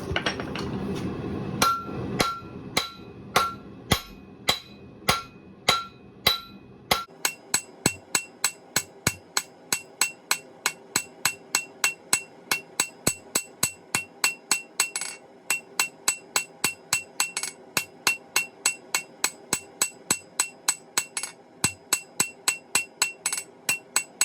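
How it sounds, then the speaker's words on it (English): A blacksmith's hammer strikes a metal bar being forged on two sides, delivering a long steady run of sharp ringing blows. The pace is slower at first, then becomes a fast regular rhythm, each hit clear and close with no talk. "We're going to keep forging on two sides"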